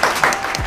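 Brief burst of audience applause at a lively dating show event, a short clatter of clapping hands with no voices on top.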